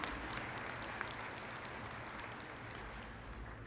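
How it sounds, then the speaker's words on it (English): Quiet, distant applause from a commencement ceremony crowd honoring partners and donors, a soft continuous patter of many hands with a low hum underneath. "Let's please give our partners a round of applause."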